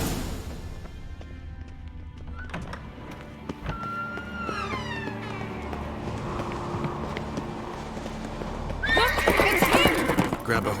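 A horse in The Witcher 3 whinnies loudly and gallops with rhythmic clip-clop hoofbeats, joined near the end by a second sharp neigh over busy game sounds.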